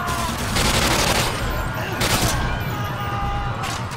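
Modern Warfare 2 gunfire during the No Russian mission: dense, sustained automatic bursts overlapping into a continuous loud barrage, with sharper shot spikes rising throughout.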